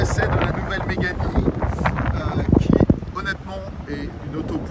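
Strong wind buffets a microphone outdoors on a gusty day during a test drive of a new Renault Mégane E-Tech, a constant roaring rush with louder gusts and a voice talking underneath.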